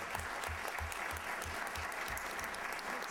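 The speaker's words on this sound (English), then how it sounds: "let's give a warm welcome and applause to our panel" An audience applauds to welcome a panel at a panel discussion event: continuous, fairly faint clapping from a crowd, steady throughout without speech.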